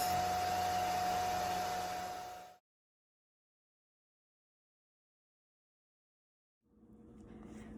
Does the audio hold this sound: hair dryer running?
yes